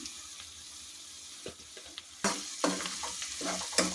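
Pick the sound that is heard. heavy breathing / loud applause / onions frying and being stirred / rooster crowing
onions frying and being stirred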